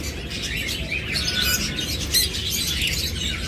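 A pair of green Fischer's lovebirds, one opaline and one ewing, chirping in quick high twittering bursts over a busy background of other caged birds, moderately close and without talk.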